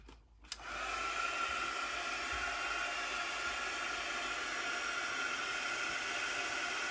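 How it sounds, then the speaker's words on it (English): A heat gun blows a loud, steady roaring hiss as it dries a craft project, starting after a short click and running unbroken to the end. "My heat gun."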